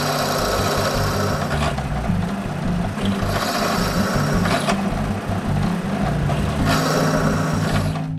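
A power drill bores a hole in wood while building an intarsia bookend. A steady, close motor whir swells into two louder drilling bursts as the bit bites, with no talk.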